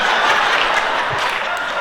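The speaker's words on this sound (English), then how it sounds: "wait, stop clapping" Audience at a comedy show applauding, a dense burst of clapping from a crowd that stays loud and even throughout.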